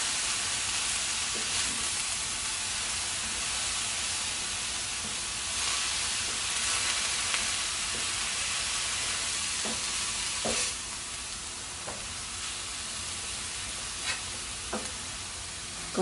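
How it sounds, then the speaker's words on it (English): Cabbage and other vegetables for vegan spring rolls stir-fry in a pan, a steady loud sizzle and hiss with occasional scrapes and clicks of stirring, no voices. "Let's incorporate the rest of the veggies into the cabbage."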